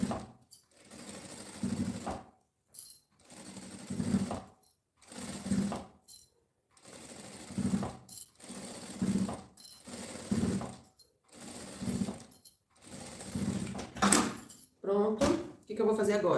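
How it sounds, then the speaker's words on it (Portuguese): A sewing machine stitches fabric straps together at their ends, running in repeated short bursts with brief pauses between, fairly close, while someone talks over and between the runs. "Vou costurar na pontinha pra fixar todos esses tirantes aqui."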